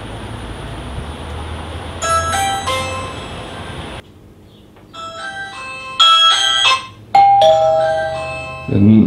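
A newly installed Ring video doorbell camera chimes in bright, ringing multi-tone bursts, repeated in several clusters with short gaps, loud and close, with a brief hush midway.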